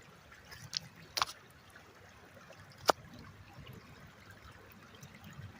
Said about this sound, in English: Just listen to the water flow, the stream.